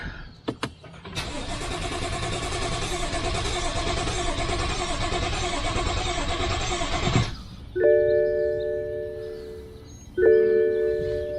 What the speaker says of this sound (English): first startup since taking the engine apart